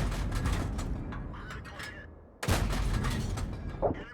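In a tank battle video game, a Covenanter tank fires its main gun. A sharp, loud blast cuts in partway through and rolls off into rumbling noise. Earlier in the clip the tank engine rumbles and gunfire sounds in the distance.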